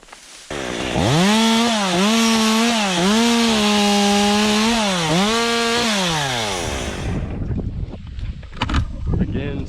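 A chainsaw cuts into a tree during a solo tree removal, its engine loud and close and revving up and down repeatedly before dropping away into crackling and thuds.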